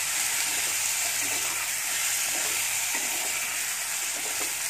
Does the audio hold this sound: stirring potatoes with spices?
yes